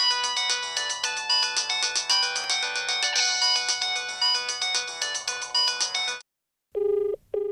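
A mobile phone ringtone plays a loud, repeating melodic tune for about six seconds, then stops briefly and resumes with short electronic tones, still waiting to be answered.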